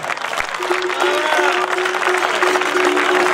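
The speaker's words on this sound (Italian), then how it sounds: "Un applauso anche per Milena" A crowd claps steadily for several seconds at a skyrace awards ceremony, sustained applause filling the room with a faint tonal hum beneath it.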